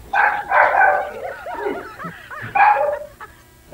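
A nearby dog gives a run of yips and short barks mixed with whiny, whimpering cries, in uneven bursts with no talking.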